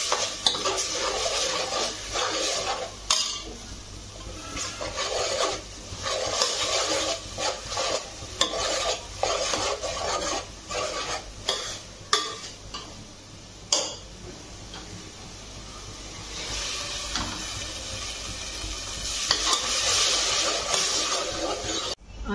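Spicy mutton masala stirred in a pan with coriander and broth added, a spoon scraping and tapping against the pan in an uneven rhythm over a low sizzle, close and steady throughout.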